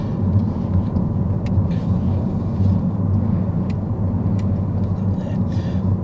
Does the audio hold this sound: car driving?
yes